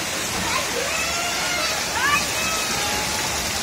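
Flash flood water sloshing and rushing around submerged houses in a residential area in South Lampung, a steady broadband wash with a brief swell near the middle, with voices faintly present.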